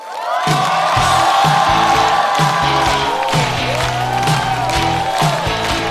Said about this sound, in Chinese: 掌声欢迎王小利